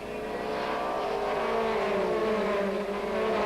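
TVR Tuscan race cars in the 1995 Tuscan Challenge roar away together from the race start, a dense, loud, continuous engine snarl with rising revs and no break.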